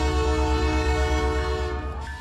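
Canadian Pacific holiday train sounding its horn in a long, loud, steady chord, with the rumble of rail cars rolling underneath.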